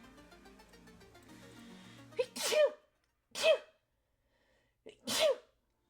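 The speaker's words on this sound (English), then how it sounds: "What's it like sneezing just once?" A person sneezes three times in quick succession, each sharp burst close and loud with short silences between, following a stretch of quiet background music.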